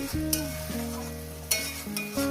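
Jackfruit sautéing in a pan hisses steadily, with a few sharp scraping stirs over a constant tonal hum.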